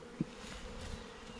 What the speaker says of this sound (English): See a lot of bees eating there.